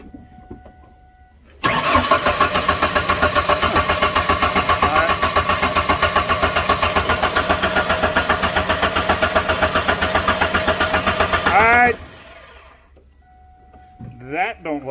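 A truck engine with a plugged intake manifold cranks for about ten seconds in a fast, rhythmic churn, then catches and settles briefly before cutting out, close and loud, with talking before and after.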